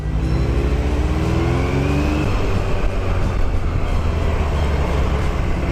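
A 2017 Kawasaki Z900 motorcycle engine accelerating, a loud, steady roar close by with its pitch climbing over several seconds, mixed with wind rush and no voices.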